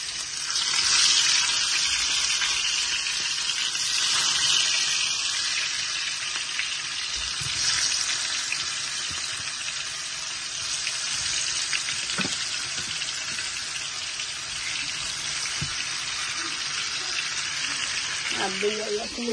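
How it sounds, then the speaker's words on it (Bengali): Rohu fish pieces coated in a spice mix and salt fry in hot oil, giving a continuous, loud, close sizzle with occasional faint knocks. "অয়েল গরম হয়ে গেছে, মাছ মশলা দিয়ে খালি মিক্স কারি ভাজা দিছি"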